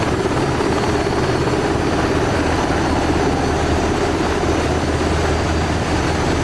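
A Seahawk helicopter in the DCS World flight simulator, its engine and rotor holding a loud, steady, unbroken roar with a deep thrumming low end throughout.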